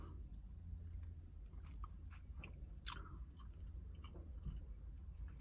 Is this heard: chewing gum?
yes